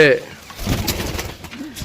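Pigeons coo in low, warbling bursts, with a voice heard alongside them at a sale of a group of 22 pigeons.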